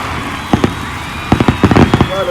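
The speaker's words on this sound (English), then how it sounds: "Fireworks, please." Fireworks bursts after a Colorado Buffaloes touchdown against Arizona: sharp cracks and pops, a pair first, then a rapid cluster of bangs, over crowd-like background noise.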